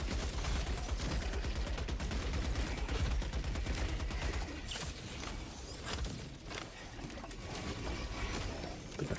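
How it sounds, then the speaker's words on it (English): Dense, continuous gunfire from Helldivers 2 roars for several seconds, rapid overlapping shots and explosions forming a loud sustained barrage with scattered sharper bursts. "I'm just going to shoot at them."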